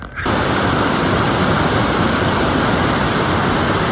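Rushing water at falls on Sweden's Mörrum river pours loud and close, a dense continuous roar of broadband noise that starts abruptly and holds steady throughout, with no voices.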